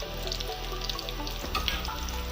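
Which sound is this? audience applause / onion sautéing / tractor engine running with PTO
onion sautéing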